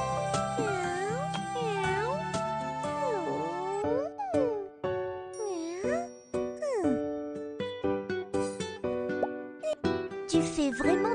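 A cartoon cat in a children's drawing game meows repeatedly in bright, bouncy, pitch-sliding calls, interleaved with chimes, plops and jingly game effects, loud and close.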